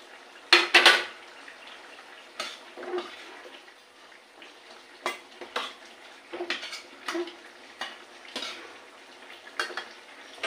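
Fish pieces dropped into a boiling pot of curry, with a burst of splashing and clatter near the start, then scattered sharp clinks of a utensil against the pot and soft bubbling.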